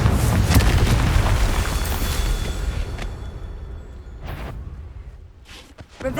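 The Confringo fire spell bursts in the Hogwarts Legacy video game: loud, booming blasts with crackling tails, several sharp pops spaced apart and fading between hits.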